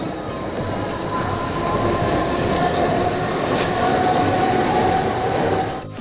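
A local train in Mumbai pulls into a station with a loud, continuous roar of wheels on rails and a steady rumble, faint squeals riding over the noise.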